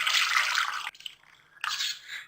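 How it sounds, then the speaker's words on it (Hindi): Chicken stock (yakhni) strained through a kitchen strainer: two short bursts of liquid splashing and trickling, close by, with a brief gap of dripping between them. "हम सारे जो है यखनी छान लेंगे।"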